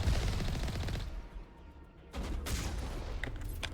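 Sustained video game gunfire and rocket fire from enemy rocket troopers in Mass Effect, loud and dense bursts with a brief lull before heavy shooting resumes.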